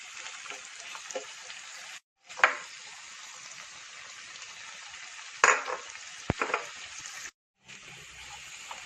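Spice powders are stirred into frying duck roast masala with steady sizzling throughout, broken by a few scraping clatters of the spoon and two brief silent gaps.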